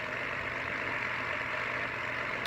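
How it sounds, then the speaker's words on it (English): Synthetic engine sound from the onboard speaker of a custom Exceed Maxstone 1/16 scale RC rock crawler, a steady droning hum with a bright buzzy edge, continuous and unchanging, moderately loud and close. "it makes an engine sound."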